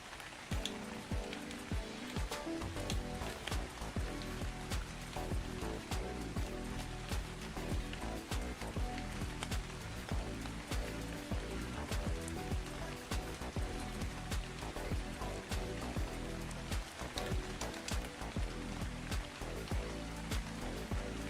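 Steady rain falling in the video game Ark Survival Ascended, a dense, continuous patter of drops on surfaces that stays even and fairly loud throughout, with no talking.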